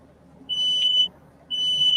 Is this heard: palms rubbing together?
no